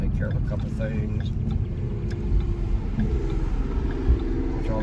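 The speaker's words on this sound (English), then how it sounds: "Watch all this traffic go by." Steady low road rumble from inside a moving car during a Sunday drive, with traffic passing by as a continuous dense hum and no clear separate pass-bys.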